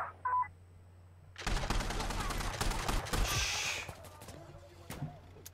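Machine gun fire from a technical in the video game Insurgency Sandstorm, a loud sustained burst of rapid shots after a short quiet beep, fading into a few scattered reports.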